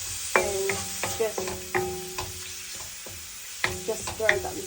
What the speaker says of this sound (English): fry, so the oil of the fat will gradually come out, like stay on low